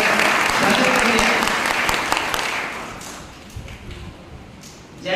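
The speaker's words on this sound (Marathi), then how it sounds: "त्यांच्यासाठी सर्वांनी जोरदार टाळ्या वाजवून त्यांचं स्वागत करूया." A crowd at a Yashwantrao Holkar birth anniversary program claps loudly and densely for about three seconds, then the applause thins out into scattered claps before a last short burst.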